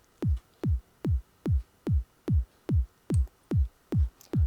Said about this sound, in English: I maybe want to have a little bit more of low end in this kick